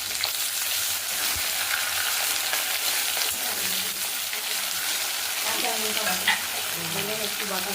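Chopped onion fries in a pan with spices in a village kitchen, giving a steady close sizzle with occasional stirring scrapes; a voice speaks faintly toward the end.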